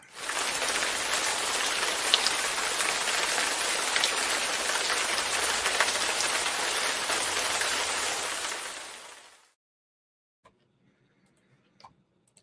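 Heavy rain falls in a dense, loud, steady downpour for about nine seconds, then cuts off abruptly into near silence with a few faint clicks.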